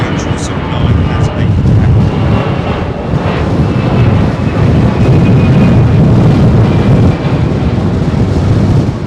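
A Boeing 777-8 freighter at Heathrow Airport gives a steady, heavy jet roar that holds loud and broad for the whole stretch, with wind buffeting the microphone.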